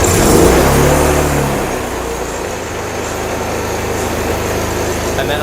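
Small generator powering a TIG welding setup starts with a brief rough surge, then settles into a steady running hum at moderate distance, with some speech at the start.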